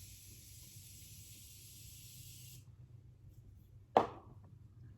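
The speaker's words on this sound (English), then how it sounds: "I'm going to spray it with some Morphe setting spray." A steady hiss of setting spray onto a makeup sponge lasts a few seconds, then stops, followed by a single soft thump; low room rumble continues throughout.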